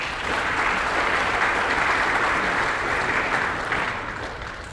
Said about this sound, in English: Another round of applause for Dr. Garry Cook